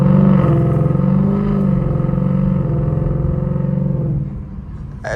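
Ford Mustang GT S550 V8 pulling hard in first gear, a loud, close, steady engine roar with strong harmonic drone that holds for about four seconds before easing off near the end.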